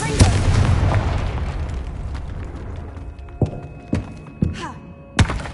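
Confringo blasting spells go off in Hogwarts Legacy as a series of sharp thuds and booms, one big blast at the start and then four more spaced impacts over a rumbling, game-ambience bed.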